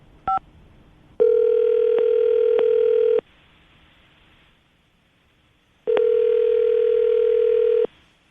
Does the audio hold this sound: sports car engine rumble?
no